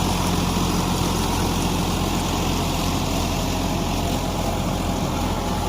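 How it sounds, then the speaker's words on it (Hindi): A Sonalika 750 tractor pulls an Agrizone rotavator cutting leaves in a field, its engine droning steadily and loudly up close with constant mechanical churning and no voices. "ट्रैक्टर पे सोनालिका 750 के पीछे चल रहा भैया है एग्रीजोन और पत्ती देख सको ठीक ठाक मात्रा में कट रही"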